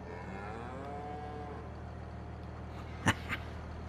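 Cattle low and moo in Farming Simulator 22, a drawn-out harmonic call from a herd on a game farm, steady and moderately near over a faint ambient hum, followed by two short knocks.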